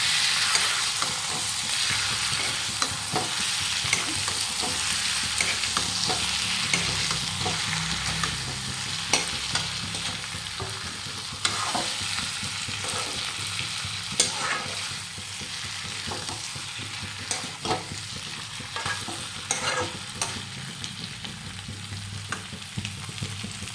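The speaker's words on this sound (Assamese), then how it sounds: "তো মাংসখিনি আপোনাৰ এনেকৈ ভাজি আছোঁ" Pork sizzles steadily in a hot pan while being stirred, with a constant frying hiss broken by frequent scraping and clinking strokes of the spatula, close and fairly loud, with no talking.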